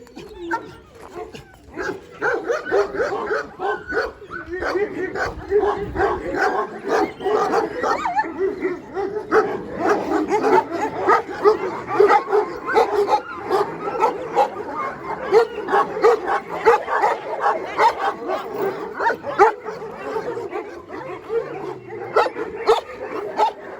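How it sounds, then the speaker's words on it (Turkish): Several Akbaş shepherd dogs on a livestock farm bark and yip continuously and loudly at close range, overlapping in a busy, rhythmic chorus for the whole stretch, with occasional whimpers mixed in. "Aşağı tarafta akbaş çoban köpeklerimiz var."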